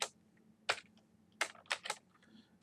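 Typing on a computer keyboard: a few sparse, crisp key clicks close by in a quiet room, spaced irregularly.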